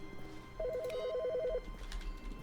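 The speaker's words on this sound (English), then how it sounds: "Phone is ringing." Electronic phone ring inside The Stanley Parable video game, a single rapid warbling trill lasting about a second over a low ambient hum, clear and close.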